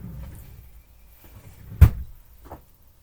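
A drawer slides open with one sharp knock followed by a smaller clunk half a second later, close and fairly quiet in an otherwise still room.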